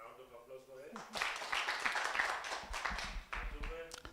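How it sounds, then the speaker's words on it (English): A training-session audience gives a round of applause for a woman, a loose scattering of hands clapping that swells after a short spoken stretch, with talk heard before it and under it. "A round of applause for her."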